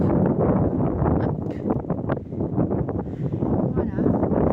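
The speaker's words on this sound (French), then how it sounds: "Un petit peu de soleil, mais encore beaucoup de vent." Strong wind blowing outdoors on a sunny but blustery morning, gusting hard against the microphone in a continuous rough roar, with a voice talking through it.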